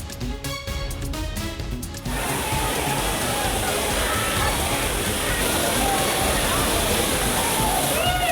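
Heavy roar of a flooded waterfall at Courtallam main falls, a loud dense continuous rush that takes over after a short stretch of music.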